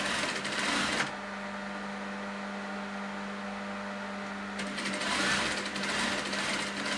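A sewing machine stitches a designer cushion cover in a steady, fast mechanical whir with an even hum, running softly in the middle and louder and busier at the start and end.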